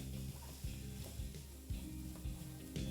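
Onion, potato and vegetables cooking in a pan on a low-medium flame, with a low, steady sizzle and repeated dull thumps and scrapes of stirring at a regular pace.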